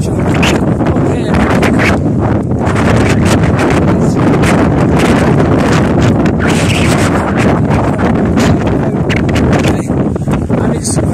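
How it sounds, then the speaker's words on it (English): Strong, cold wind on Bleaklow in the Peak District roars loudly and constantly across the microphone, with gusty buffeting rumble throughout and no clear speech. "If I take you up here, you'll start to see how strong these winds are."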